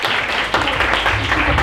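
An audience claps and cheers at an intimate live music event, a dense wash of applause that swells briefly after a short dip, fairly close and filling the space.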